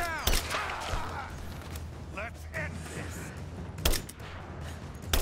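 Gunfire in the Rise of the Tomb Raider video game on Survival difficulty, a few sharp bursts of shots spaced through the clip over a busy background of game ambience.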